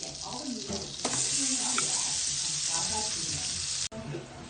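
Butter melting and sizzling in a pan for butter garlic crab, a steady broadband frying hiss throughout with faint stirring and a brief break near the end.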